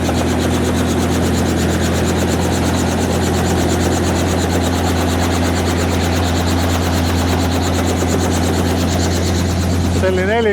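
A helicopter at a military truck weekend event runs close by, its steady loud engine whine and rapid rotor chop filling the whole stretch without letup, with faint voices underneath.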